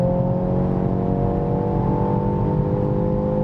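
BMW X2 M35i four-cylinder engine pulling hard on kick down, a steady loud droning rise with a continuous tonal whine over the engine note and no talking.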